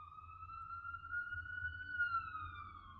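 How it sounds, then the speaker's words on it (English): An ambulance siren passing outside, a steady rising-and-falling electronic wail heard faintly from a distance over low rumbling traffic noise, with no voices. "The second I start shooting a video, there's always a fucking ambulance, every single time."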